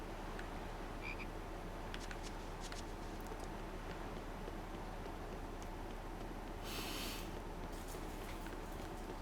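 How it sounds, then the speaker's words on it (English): Several frogs croak steadily in the video game Tales of Berseria, a dense, continuous chorus held at an even level throughout with a few brief higher bursts on top, and no talking. "that's not a frog, that's 3 frogs."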